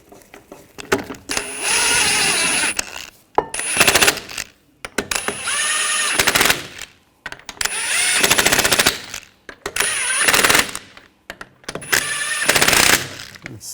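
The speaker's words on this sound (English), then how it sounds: "Put the lug nuts on." An impact wrench runs lug nuts onto a Nissan Rogue wheel in five loud bursts of rapid rattling hammering, each a couple of seconds long and separated by short pauses.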